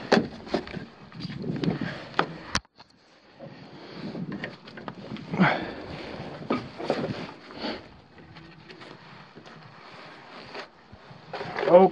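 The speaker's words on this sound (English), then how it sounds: "a lot of wind blowing down that thing." Wind gusts down a mine shaft, rushing and buffeting a nearby microphone in uneven surges with quieter lulls, one sharp knock partway through, and faint rustling movement in between.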